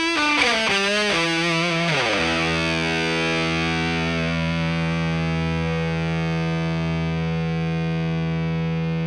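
A few distorted electric guitar notes through an MXR Noise Gate Line Driver pedal give way to one long sustained chord that rings on and slowly fades, with no talking.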